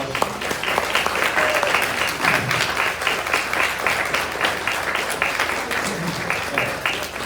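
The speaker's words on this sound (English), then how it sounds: "So let's give them a round of applause." Round of applause at a scholarship dinner, steady crowd clapping lasting several seconds, fairly close, with a few voices mixed in.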